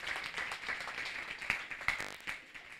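A congregation at a French-speaking church service in Togo claps hands together in acclaim, a soft, fairly distant patter of mixed applause with a few sharper individual claps, with no talk over it.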